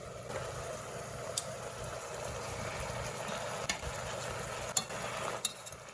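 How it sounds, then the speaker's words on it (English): Onions and garlic sizzle steadily in a pan for beef enchiladas verdes, a continuous close frying hiss with a few faint clicks and stirs scattered through it, and no voices. "now we're going to add our onions and garlic just to cook down a bit"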